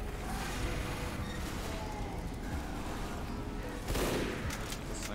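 Gunfire from a sniper rifle in the Team Fortress 2 game, sharp shots over a dense, busy battle din with other weapons and explosions, loud and continuous, a louder burst near the end.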